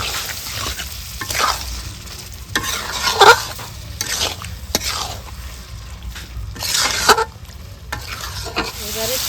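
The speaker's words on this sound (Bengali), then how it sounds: "এবারে চিকেনটাকে কষানো হয়ে গেছে" Chicken sautéed with spices in oil in a pan, a close sizzle broken by repeated stirring scrapes and spoon knocks at an irregular pace.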